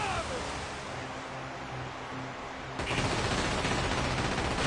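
Muffled booming ship cannon fire in the video game Like a Dragon: Pirate Yakuza in Hawaii rumbles over a washing noise bed, then a louder burst of cannon fire erupts partway through and keeps rolling.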